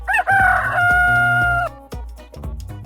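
A rooster gives one loud, close cock-a-doodle-doo crow with a rising opening and a long held middle note, followed by a few short clucks.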